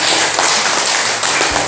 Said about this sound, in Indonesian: Tepuk tangan untuk Ece.